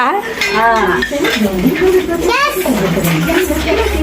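Small toy cooking pots and dishes clink and rattle lightly near at hand while voices talk over them, with a voice among them.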